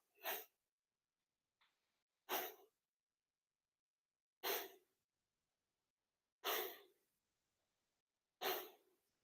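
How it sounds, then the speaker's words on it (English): Loud, forceful breaths during a qigong exercise, five strong exhalations spaced about two seconds apart in a steady rhythm, close and alone with no talking. "And this can be a louder breath."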